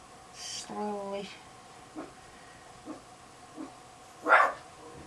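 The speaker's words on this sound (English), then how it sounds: "Sorry about that, Mason barking." A dog barks indoors: a short burst of harmonic barks early on, then several faint, muffled yips spaced apart, ending with a louder bark-like whine. Quiet background hiss throughout.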